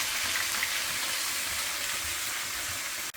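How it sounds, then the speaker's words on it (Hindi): Constant broadband hiss of garlic frying in oil, steady and fairly quiet throughout, with a brief dropout just before the end. "लहसुन हमारा थोड़ा सा कुड़कुड़े जी हो गया, आवाज़ आ रही होगी शायद आपको।"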